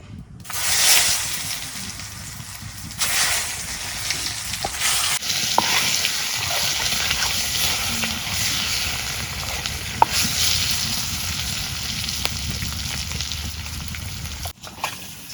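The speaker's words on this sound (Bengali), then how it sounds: "এখন আমি প্রথমে ডিমগুলো ভাইজা নেব।" Eggs frying in a pan at home, a steady broadband sizzle that runs continuously, with a few brief shifts and clatters, then a short dip near the end.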